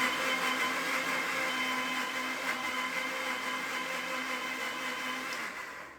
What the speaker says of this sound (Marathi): मिक्सर वाटतोय